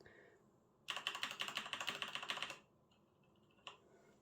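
A burst of rapid typing on a Logitech G915 wireless gaming keyboard with clicky switches, a dense run of sharp clicks lasting under two seconds, followed by a lone keystroke, close and fairly quiet.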